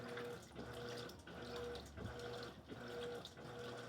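Electrolux LED14 washing machine agitating on a delicate cycle, faint rhythmic swishing of water with a repeating motor hum in regular pulses about every half second.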